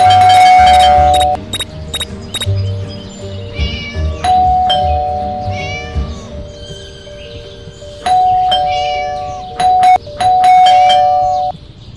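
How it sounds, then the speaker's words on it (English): Doorbell chimes ring out repeatedly inside the Scary Teacher video game, bright tonal dings in several separate bursts over a low rumbling background, with cat meows mixed in. "Bell again."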